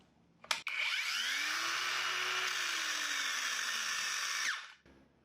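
A Parkside PWSAP 20-Li C3 cordless angle grinder whines up to a steady high-pitched run for about four seconds, then quickly spins down to a stop, close and alone.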